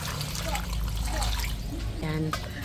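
Water pours into a cooking pot set over an open wood fire outdoors, a steady close trickle and splash lasting a few seconds while a voice speaks over it.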